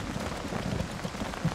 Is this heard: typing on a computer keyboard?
no